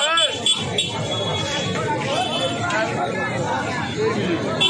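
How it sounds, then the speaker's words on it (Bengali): Dense crowd hubbub fills the grounds of the Baneshwar Shiva fair, a continuous babble of many voices around a nearby person who talks over it. "ভিড় তো প্রচুর"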